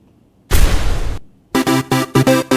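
A retro game explosion effect gives one burst of harsh noise, then a run of rapid, tonal chiptune-like pulses, loud and close, with no voices.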